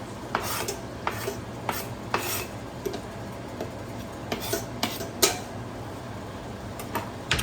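Ground beef, about 2.5 pounds, browning with onion in a pot: a soft steady sizzle under repeated scraping and clinking strokes of a utensil against the pot, fairly quiet, no voices.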